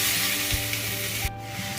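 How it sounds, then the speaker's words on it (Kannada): Spinach, onion and green chilli fry steadily in a pan with oil, giving a continuous close sizzle and crackle, with a few soft scrapes of stirring partway through. "ಇದನ್ನು ಚೆನ್ನಾಗಿ ಹುರ್ಕೊಳ್ಳಿ."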